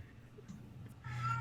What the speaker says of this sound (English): That's my cat.